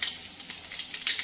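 Mustard seeds crackle and splutter in hot oil in a home kitchen, a steady bright sizzle with small popping bursts, close and fairly loud, with no voices.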